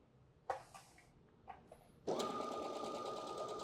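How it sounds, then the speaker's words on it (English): A home embroidery and sewing machine stitches fabric: a few isolated clicks and thumps as the work is set up, then a steady, close, continuous mechanical whir of rapid stitching with no talk. "So I'm going to start sewing."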